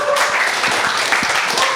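A hall audience gives steady, dense applause in continuous clapping at even strength throughout.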